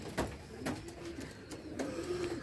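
Racing pigeons in a loft give low, throaty coos, two drawn-out rolling calls heard close over a faint, noisy background with a few small knocks.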